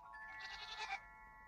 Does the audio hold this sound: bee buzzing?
no